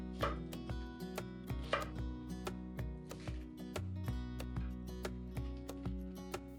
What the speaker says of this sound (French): Coupez les 2 branches de cébette,